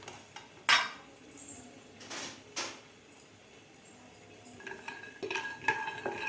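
Peanuts dry roasting in a pan, heard as sparse clinks and scrapes of a spatula against metal with quiet gaps between, close and fairly soft.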